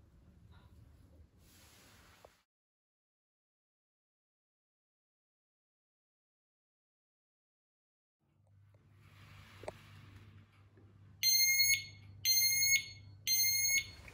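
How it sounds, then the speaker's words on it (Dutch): Newly installed smoke detectors in a home sound three loud, shrill electronic beeps in quick succession near the end, after a low mechanical hum and quiet handling noises. "Zo, deze woning is ook weer voorzien van rookmelders."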